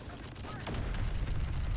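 Siege units attacking in Terminator Dark Fate Defiance, a real-time strategy game: steady dense gunfire and low rumbling explosions in a continuous barrage, with a brief higher swooping sound partway through and a faint voice underneath.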